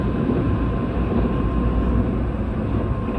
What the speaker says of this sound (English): This train is the limited express Spacia for Asakusa.